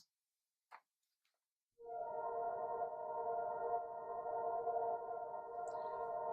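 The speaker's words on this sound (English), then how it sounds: "So all of the flute processing sounds like this." Flute track processed in Logic with a large four-second hall reverb, entering after a near-silent start as a soft, sustained tone with a hazy reverberant tail, heard alone.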